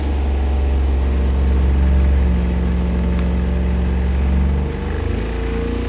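Car engine warmed up for a dyno pull on Royal Purple HP oil, a loud sustained droning roar with strong low rumble that holds steady, then drops in pitch near the end.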